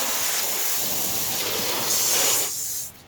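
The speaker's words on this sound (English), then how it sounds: "You're gonna have to spray water in there anyway" A steady, close hiss of water spraying from a nozzle inside a car cabin, continuous for a few seconds before cutting off.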